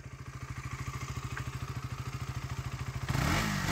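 A new-model KTM Duke 200 motorcycle idles close by in a rapid, even thumping beat, then its engine swells into a louder, rougher burst of revving at the very end.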